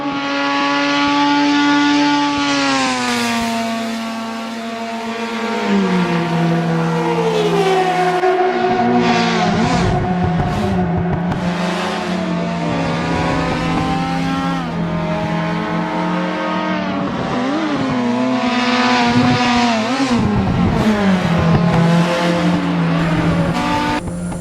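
A Nissan R30 Skyline Super Silhouette race car with a rotary engine revs hard on a circuit, loud and close, its pitch climbing and dropping through gear changes and corners with a rising, howling tone.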